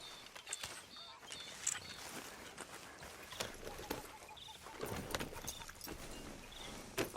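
Horse hooves galloping in Red Dead Redemption 2, a steady clip-clop rhythm of hoofbeats mixed with ambient game sound at moderate volume, with no talking.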